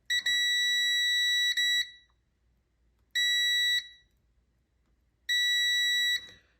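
A multimeter beeps on a continuity test of cut wire strands, sounding three separate loud, steady high tones of about one to one and a half seconds each, with short pauses between them.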